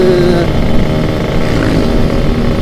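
A Yamaha RX King motorcycle's aftermarket exhaust revs loud and close, a steady throaty two-stroke drone with no break.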